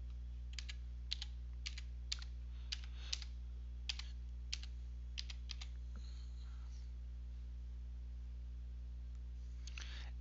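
Typing on a computer keyboard, a run of about a dozen light, evenly spaced key clicks heard close and clear over a steady low hum, with a brief pause before a few more keystrokes.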